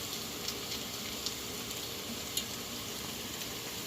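Meatballs sizzle steadily in a hot pan, a soft continuous frying hiss with a few faint pops and ticks as they cook.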